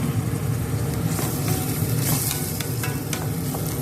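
Mixed vegetable fried rice with black pepper is stir-fried in a hot pan, giving a steady, close, loud sizzle with scraping stirs and a few sharp ticks throughout, with no talk.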